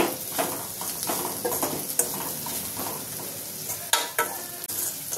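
Bitter gourd (boda kakarakaya) frying in a pan with salt and chili powder, a steady sizzle with stirring scrapes and a few sharp clinks of a utensil against the pan.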